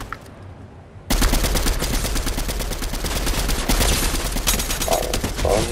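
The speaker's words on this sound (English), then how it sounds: "Well, I'm getting shot at." Sustained automatic gunfire in Fortnite bursts in suddenly and keeps going as a dense, loud, rapid rattle of shots.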